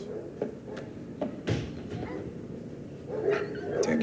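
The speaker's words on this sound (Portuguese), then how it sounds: "O que doguinhos tá fazendo aí?" Border collie dogs bark a few sharp times from a television scene, mixed in with people talking and other background noise.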